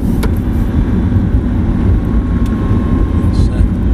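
An Audi R8 engine drones steadily from inside the car as it is shifted down into third gear, a loud continuous hum with brief clicks on top, and someone talks over it.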